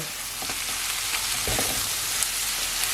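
Meat is stir-fried in a hot pan, giving a loud, continuous close-up sizzle with brief rustling stir strokes mixed in.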